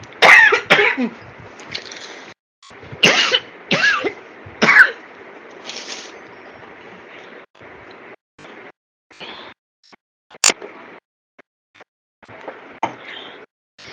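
A woman's repeated coughing fit, with several harsh bursts clustered early, then scattered, quieter coughs and throat clearing over a faint background hum.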